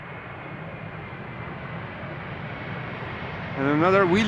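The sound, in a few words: airplane landing at Amsterdam Schiphol Airport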